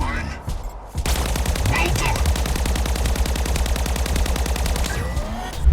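A rapid-fire weapon in the video game Mech Arena shoots in a loud, sustained stream of fast, evenly spaced shots for several seconds without pause, under a voice talking.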